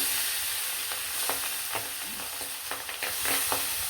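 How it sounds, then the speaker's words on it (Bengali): Fish sizzles steadily in hot oil, a continuous spitting hiss with small crackling pops, close and fairly loud, with no talking. "মাছগুলো কিন্তু তেলে ছাইড়া দিলাম"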